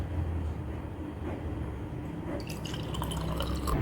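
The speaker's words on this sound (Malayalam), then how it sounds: "നമുക്കിനി ഇത് അരിച്ച് ഒരു ഗ്ലാസ്സിലേക്ക് ഒഴിച്ചു മാറ്റാം" Boiled mukkutti herb water is strained and poured into a glass, a soft steady trickle over a dense hiss that turns into brighter splashes and drips near the end.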